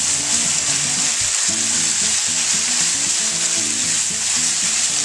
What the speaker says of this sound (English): So you just want to mix this all together.